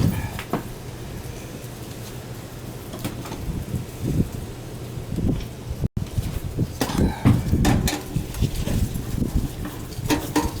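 Steady wind gusting and buffeting outdoors, a low rumble rising and falling for about ten seconds with scattered faint thumps and clatter.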